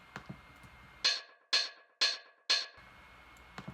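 Four evenly spaced bright hi-hat hits ring out alone in a lo-fi house drum loop, framed by quieter low drum hits at the start and end.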